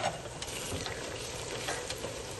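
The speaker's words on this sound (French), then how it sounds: "on va faire cuire les oignons" Onions and peppers frying in a pan for sautéed beans, a steady close sizzle with light stirring scrapes, continuous and fairly quiet with no talking.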